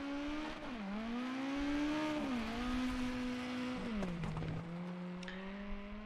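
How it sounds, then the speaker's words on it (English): A rally car engine in a WRC 9 replay revs hard and climbs through gears with sharp drops at each shift. It is loud and close, ending in a brief skid or rattle, with no talking. "Turn off the sound so you can hear the engine."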